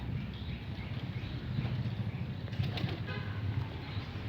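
Racing pigeons burst into flight on release, a dense flurry of flapping wings rising close by and continuing steadily with some faint higher chirps toward the end.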